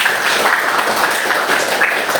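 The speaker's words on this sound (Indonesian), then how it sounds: "Tepuk tangan." Students in a classroom applaud, a steady, even wash of many hands clapping at close range for a couple of seconds with no break.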